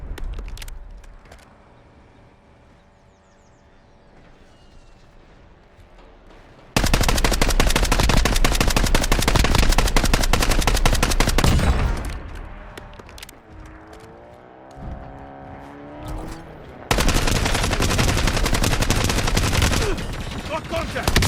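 Gunfire in the video game Warzone: long bursts of rapid automatic fire, loud and close, broken by a quieter stretch, with voices speaking now and then.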